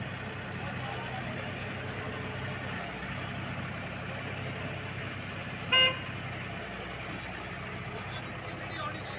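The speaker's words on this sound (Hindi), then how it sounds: "कोई प्रॉब्लम हो रही है, इससे हॉर्न मार रहा है जी।" A vehicle horn gives a single short honk over the steady idling engine hum and machinery noise of a plywood factory yard.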